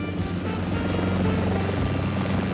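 Helicopter rotor beating in a steady, loud, continuous drone with a low rhythmic thump and engine whine, filling the whole stretch with no voices.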